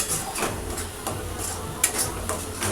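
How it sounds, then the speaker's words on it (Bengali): Ground spices being stirred and fried in oil in a pan for a bhetki fish muitha gravy: steady sizzle with intermittent scraping and clinks of a spoon against the pan, close up and alone. "বেসিক যে গুঁড়ো মশলা সেইগুলো দিয়ে আমি কষিয়ে নিচ্ছি"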